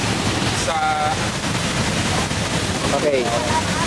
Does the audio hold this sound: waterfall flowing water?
yes